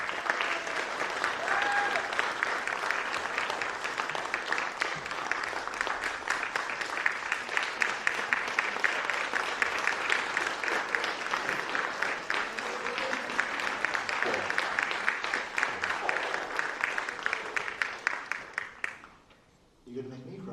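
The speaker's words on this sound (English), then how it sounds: "I just think we need to just give her a round of applause and" An audience at a CHIPS ceremony gives a sustained round of applause, dense steady clapping that holds for about eighteen seconds before tapering off into quieter room sound.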